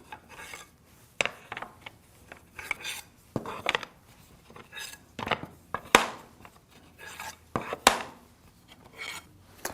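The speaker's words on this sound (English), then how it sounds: "Now that I've got all the slats flipped over" Wooden slats for a tambour sliding cabinet door are flipped end for end on a workbench, giving a series of irregular clacks and scraping rubs of wood on wood, close and fairly sharp.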